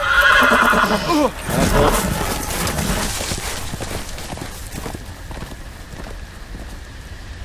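A horse whinnies loudly up close in the Game of Thrones video game, followed by hoofbeats running off into the distance over ambient game sound, with a brief spoken word.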